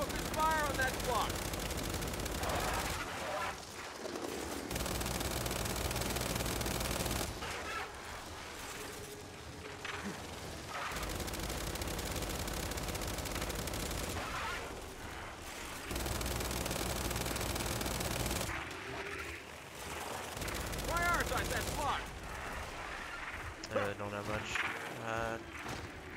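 Bursts of automatic gunfire in Gears 5 during a boss encounter, coming in long sustained volleys separated by brief lulls, with talk and game sounds mixed in.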